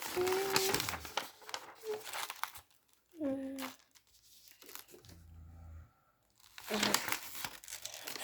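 Plastic packets crinkle and rustle in loud bursts, with someone talking between them and quieter gaps of handling.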